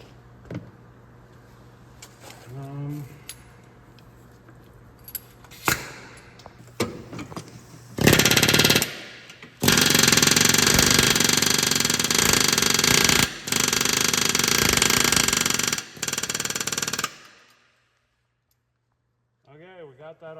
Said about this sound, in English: Just gonna have to keep on hammering.